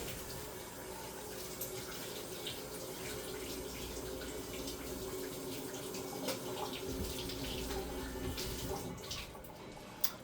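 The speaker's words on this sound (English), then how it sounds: "Alright, I'm gonna wash my hands now." Tap water runs steadily into a kitchen sink while hands are washed under it, a constant close gush with faint splashing and no talk.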